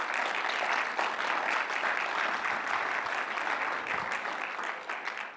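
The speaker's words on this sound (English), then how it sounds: "Please give a round of applause." Applause from a conference audience for a Partner of the Year award, a fairly soft but steady patter of many hands that fades slightly toward the end.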